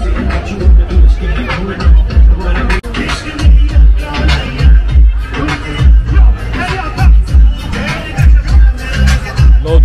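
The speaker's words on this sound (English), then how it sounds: "They've got a big crowd as well." Dense crowd chatter at a busy Pakistani street food mela in Birmingham, many overlapping voices close by with loud nearby talk rising and falling throughout.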